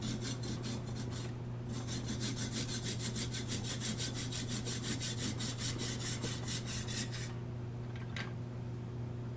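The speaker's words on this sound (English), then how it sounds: "I'm gonna try to finish this off with a hacksaw" Hacksaw cutting into metal, a fast even run of close rasping strokes back and forth that lasts about seven seconds and then stops, leaving a steady hum.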